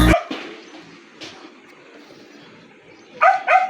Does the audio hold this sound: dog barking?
yes